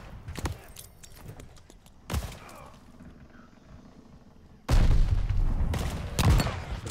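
Grenade explosions go off in Call of Duty: Vanguard, three loud bursts with rumbling, crackling tails, the last one longest and heaviest, with quieter game sounds in between.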